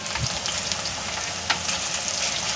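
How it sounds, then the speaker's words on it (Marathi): Potato pieces frying in hot oil for Khandeshi-style sabudana khichadi, a steady close crackling sizzle with small pops throughout and no talking. "आपला हा बटाटा अशा रीतीनं तेलामध्ये बऱ्यापैकी तळलेला आहे"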